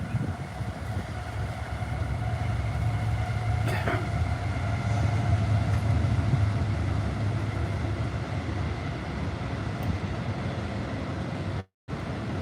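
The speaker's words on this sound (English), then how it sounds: "Let's let this big ass train go by." A large freight train rumbles past close by, a steady low roar with metallic wheel and rail tones sustained for the whole stretch, heard alone without talk.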